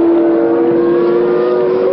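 A USAC/CART race car at Brands Hatch in 1978 drones past on the road course with a loud, close, sustained engine howl that holds nearly steady in pitch.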